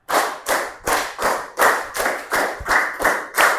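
A class of students claps together in two quick rounds of five, ten sharp unison claps in a steady rhythm, loud and near in a classroom.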